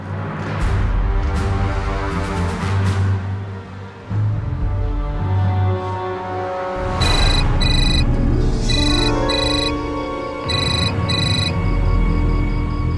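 A loud, repeating electronic phone ringtone chimes in a melodic pattern of bright beeping tones, with a low musical drone beneath at the start.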